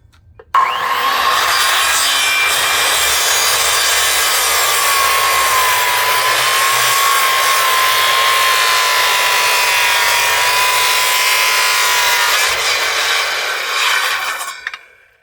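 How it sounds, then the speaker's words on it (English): Big powered saw plunge cutting into a wooden deck stair, a loud continuous grinding cut with the blade straining, running steadily for about fourteen seconds before stopping. "So you might have been able to tell how the saw was under strain, and that's why I'm using a big powered saw"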